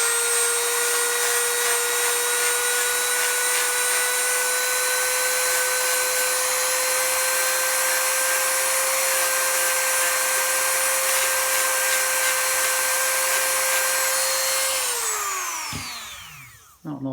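A power sander whines steadily at a high, constant pitch while smoothing the edge of a replacement knob for a DeWalt DW788 scroll saw, then spins down and stops near the end.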